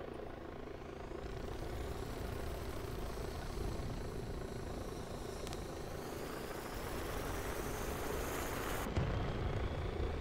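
A helicopter in the VRChat video game flies with a steady whirring rotor drone at moderate level, continuous throughout with no voices.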